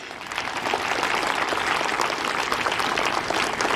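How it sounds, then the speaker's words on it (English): An audience at a school morning assembly for an India–France cultural exchange gives sustained applause to welcome visiting students and teachers, a dense, even wash of clapping from many hands. "Let's welcome them again with a huge round of applause."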